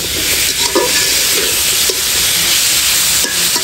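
Small puti fish frying with salt and turmeric, a loud, dense, close sizzle with occasional stirring scrapes, steady throughout with no voices.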